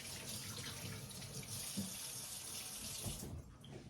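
Tap water pours steadily into a sink while carrots are rinsed, a continuous close splashing rush with a few small knocks and no talking.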